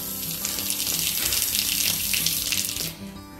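Tap water runs steadily into a sink, a close, continuous splashing gush that cuts off near the end.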